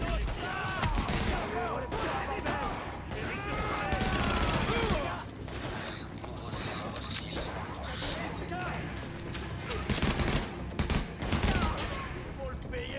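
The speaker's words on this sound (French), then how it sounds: "On dirait un bruit de pétard, un truc." Gunfire in The Division pops like firecrackers, dense volleys and scattered shots spread over a busy game mix, with voices speaking French throughout.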